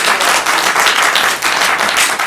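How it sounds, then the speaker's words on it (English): Dense, steady applause from an audience at a parish council meeting, loud and continuous with no voices standing out. "I appreciate the applause,"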